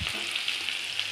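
Four or five slit green chillies fry and get stirred in a pan, giving a continuous hissing sizzle with light scraping, close and unbroken by any voice.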